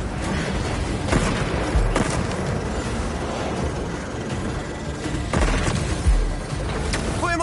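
Bursts of electric cannon fire and booming blasts in Spider-Man 2 on PlayStation 5, several sharp impacts over a constant rumbling background of combat noise.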